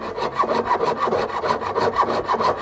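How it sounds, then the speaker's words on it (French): A small saw cuts through a casting sprue in steady, rhythmic back-and-forth strokes, close and fairly loud, with no talking. "c'est le sciage de la tige de coulée"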